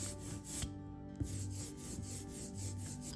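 A steady, tacky rasping hiss in rhythmic strokes as an ink roller is pulled back and forth over a plate for block printing, close up with a brief pause partway.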